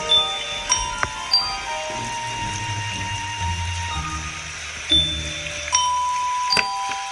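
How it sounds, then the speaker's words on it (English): Bright bell tones ring out one after another in a slow melodic sequence, each note chiming and lingering, with some low rumbling beneath. "She needs to ring the melody on bells."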